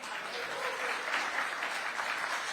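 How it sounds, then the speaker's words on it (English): An event audience applauds in a short, steady burst of dense clapping, heard at moderate level and somewhat distant, lasting only a couple of seconds. "Huge round of applause."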